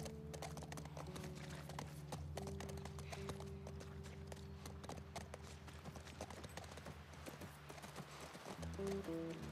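Horse hooves clip-clop steadily during a horseback search in The Last of Us Part I, the rhythmic footfalls sitting under game music with sustained tones throughout.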